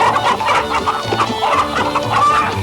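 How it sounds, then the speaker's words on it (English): Chickens cluck busily in a comedic film chase scene, their clucks scattered over constant, loud silly music that fills the whole stretch. "anyone looks stupid when they're chasing chickens with silly music playing"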